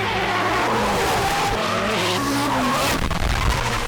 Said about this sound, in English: drift